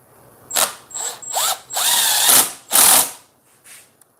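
A power drill drives a couple of screws into a wooden board in several short whirring bursts, its pitch rising and falling as each screw seats. Close and fairly loud, with no talking.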